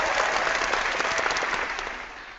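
A canned applause sound effect plays on a podcast, a bright burst of crowd clapping that starts full and then slowly fades toward the end.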